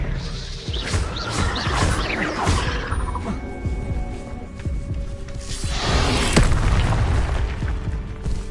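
An Expelliarmus disarming spell cast during a duel in the Hogwarts Legacy video game, heard as booming magical blasts and crashing bursts, first in a cluster of sharp hits, then a quieter lull, then another surge of heavy impacts, with no voices.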